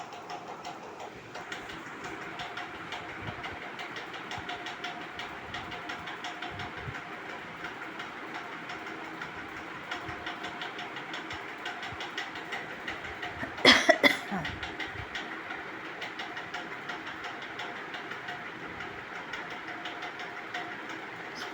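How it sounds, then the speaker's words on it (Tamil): A steady rumble and rhythmic rattle of a train rolling past nearby in Rajasthan, with a brief sharp clatter partway through; no talking. "பக்கத்தில் ஒரு ட்ரெயின் வந்து போய்க்கிட்டே இருக்கும் பாருங்கள்"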